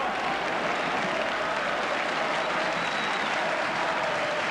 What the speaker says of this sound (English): And now they remember to applaud their team who've done so well.